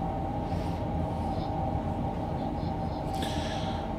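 A train in Train Simulator 2020 rolls steadily through a construction site, a continuous rumbling run of wheels on track with an even mechanical drone and a brief brighter rattle near the end.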